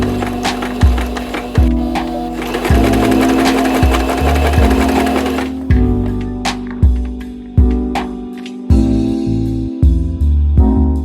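A sewing machine stitches elastic onto a crochet thigh-high leg warmer, running in loud, fast mechanical bursts separated by short pauses and clunks, with no talk.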